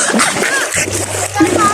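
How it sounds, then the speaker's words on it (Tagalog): A person diving into the sea at Nasugbu, Batangas makes a sharp splash and sloshing water, close and loud, while voices talk over it. "Try natin mag-dive dito."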